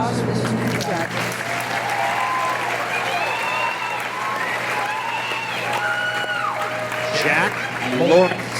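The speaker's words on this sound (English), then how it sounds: "Round of applause for the senior graduates." Audience applause for senior graduates at a 2017 high school graduation ceremony, a sustained, dense clapping crowd throughout with a voice speaking over it and a brief louder swell near the end.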